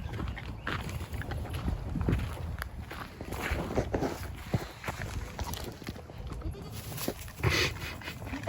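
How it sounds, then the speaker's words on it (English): Hooves patter and shuffle across the ground as several animals move close, with occasional bleats and rustling amid a busy outdoor background. "the goats are coming."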